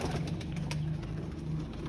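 A Teddy pigeon, green and china-patterned, coos softly over a continuous low hum in a pigeon sale setting.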